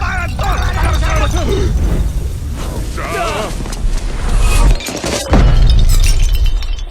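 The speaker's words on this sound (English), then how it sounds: "That's right when the giant star crashes into the moon." A giant star crashing into the moon in the La Luna story app produces a loud shattering, glassy crash with rumbling booms and tinkling debris, with a voice partly audible in the mix.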